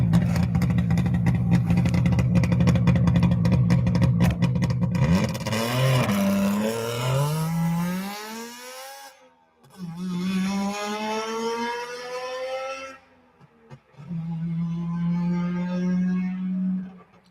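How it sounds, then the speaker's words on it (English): A 1961 Saab two-stroke car engine revs hard several times, its buzzy, motorcycle-like pitch climbing with each burst before dropping back, loud and close with no talking. "It's a two-stroke Saab, 1961."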